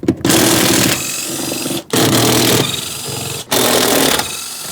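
Rear shock absorber mounting nuts coming off a 2003-2007 Cadillac CTS with a power tool, heard as three loud buzzing bursts of rapid rattling, each broken by a brief pause.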